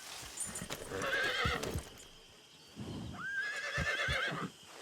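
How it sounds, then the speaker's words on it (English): Foxtrotter horse in Red Dead Redemption 2 whinnying twice, with high wavering neighs over steady clip-clopping hooves and snorts, fairly close and moderately loud. "Is that your horse right there? You mind if I calm it for you?"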